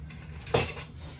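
A single sharp clatter of metal cutlery and dishes at home, as a spoon is searched for among kitchen utensils, followed by faint rustling in a quiet room.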